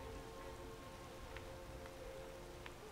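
Steady rain in the Skyrim video game falls as a continuous soft hiss of drops with occasional distinct spatters, heard alone without talk.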